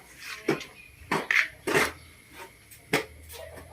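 Homemade fish feed ingredients, including lime, being mixed by hand in a container, giving a few scattered scraping and rustling bursts at close range with quiet gaps between them and no talk.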